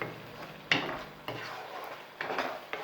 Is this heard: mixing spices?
yes